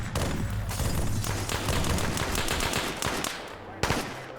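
A BMP fires sustained machine-gun bursts in a military video game. The fire is dense, rapid and rattling, with a sharp report near the end.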